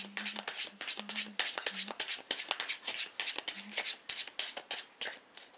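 Tarot cards being shuffled by hand for a card reading, a quick run of crisp riffling flutters and soft slaps repeating in bursts, close and clear, with no talking over it.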